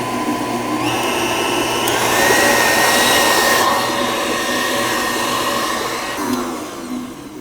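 An electric mixer beating room-temperature eggs for a pumpkin cake roulade, a steady loud whirring drone that runs without pause, rising slightly in the middle, with no talking.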